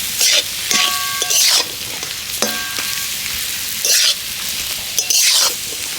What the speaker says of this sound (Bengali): এটাকে এবারে আমি এই মশলার সাথে দিয়ে ভালো করে নেড়ে চেড়ে পুরটা তৈরি করে নেব।